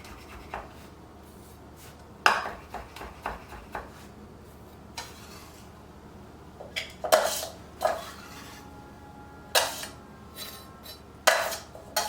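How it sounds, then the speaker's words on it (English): A knife mincing garlic for a vegan Caesar salad on a cutting board, heard as scattered sharp chops and taps at irregular intervals, close and moderately loud, with no talking. "this helps me save a lot of time in mincing garlic because essentially it's two cross cuts and I'm at a mince."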